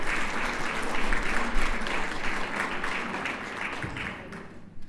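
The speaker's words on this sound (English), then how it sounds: "Please give her a applause." An audience applauds a woman being honoured at a women-in-science convening in Amman, Jordan: steady, dense clapping from a sizeable crowd, holding even throughout and tapering slightly at the end.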